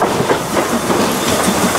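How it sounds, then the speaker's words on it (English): Narrow-gauge train on the Gulbene-Aluksne railway in Latvia departing on a festival day, a steady close rumble and rush of wheels on rails with broadband hiss throughout. "Ferdinand's makes a majestic departure along the narrow-gauge tracks"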